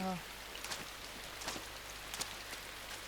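Rain falls steadily in the video game Inside, a soft continuous hiss broken by scattered patters and faint drip-like taps, with no one talking.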